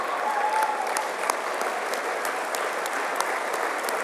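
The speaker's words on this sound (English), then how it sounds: "can we give him a round of applause?" A large banquet-hall audience at a political party leader's dinner in a Toronto convention centre claps steadily, a dense, even wash of applause with a few sharper individual claps standing out, sustained throughout without talk.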